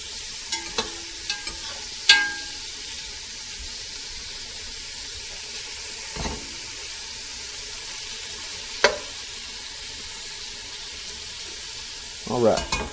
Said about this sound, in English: Stir it up, let it settle in.